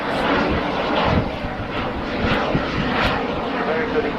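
A Eurofighter Typhoon flying slowly past at the 2014 Cosford air show, a steady loud jet roar with rumbling low end, heard under a commentator's continuous talk.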